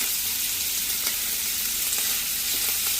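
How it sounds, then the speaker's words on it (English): Meat browns in a cast iron skillet, a dense, steady crackling sizzle with occasional sharper pops as it fries and renders its grease, loud and close, no talking. "I'm going to finish browning that, get some good color on it, cook some of the grease out"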